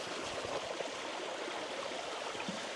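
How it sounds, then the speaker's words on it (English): A small creek flowing in the shade, a steady, soft rushing and gurgling of water heard close by without break, with no voices. "Beautiful little creek."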